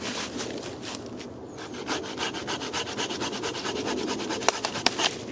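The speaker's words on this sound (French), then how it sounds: "La scie a une très très bonne pénétration dans le bois." A Bahco hand saw cuts through a wooden log in steady, rhythmic back-and-forth strokes, a close, rasping wood-cutting sound repeated for several seconds with no talking.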